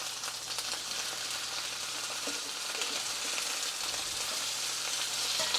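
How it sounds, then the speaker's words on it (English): Beef shanks searing in a hot pan give a steady, loud, close sizzle and fry that runs unbroken, with no talking over it. "Oh yeah, that's a nice sear."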